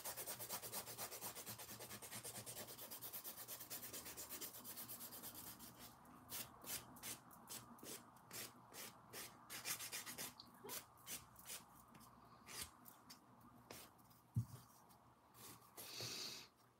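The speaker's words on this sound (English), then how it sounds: "I want them to all be cloudy because I'm filing" A nail file rasps back and forth across a fingernail surface during a dip-powder manicure, at first as a steady close rubbing and then as quick, evenly spaced strokes, quiet and with no talk.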